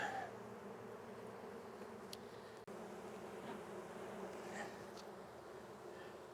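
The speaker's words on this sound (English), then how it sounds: "See, now you can tell I got lots of bees." Dense, steady buzzing of many honey bees swarming around an opened hive during an inspection, a continuous close drone with no talking.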